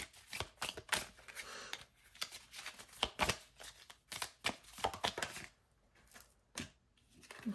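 Tarot cards are shuffled and drawn close by, producing soft riffling bursts and crisp card snaps at an uneven pace, with a few quieter gaps between them.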